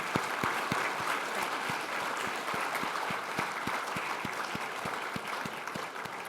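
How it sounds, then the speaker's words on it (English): Sustained applause from an audience at a history panel event fills the space, dense and steady throughout, with a faint rhythmic thumping running underneath. "Ladies and gentlemen, round of applause."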